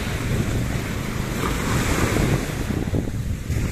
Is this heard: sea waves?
yes